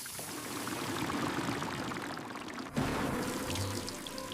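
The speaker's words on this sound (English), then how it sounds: "Turn the hot water handle maximum fast." Hot water runs steadily from a tap into a steel kitchen sink in a constant rushing stream, with a sudden clunk partway through before the flow continues.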